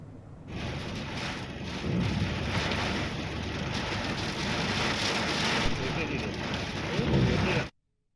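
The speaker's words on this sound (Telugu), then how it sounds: "ఈదురుగాలులతో కూడిన భారీ వర్షం కురిసింది." Heavy unseasonal rain driven by gusty winds in Telangana: a loud, dense, continuous rush of rainfall and wind that starts abruptly, swells in gusts and cuts off sharply at the end.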